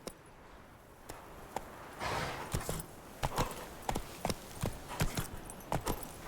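A horse's hooves in The Witcher 3 video game, a rhythmic run of sharp clip-clop strikes that starts sparse and quickens into a steady trot, close and fairly quiet, with no voices.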